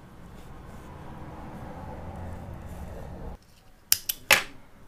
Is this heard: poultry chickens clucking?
no